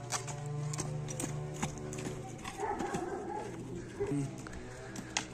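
A 1.60 m herd stallion walks, its hoof steps clip-clopping softly beneath a droning, tonal background sound, faint overall.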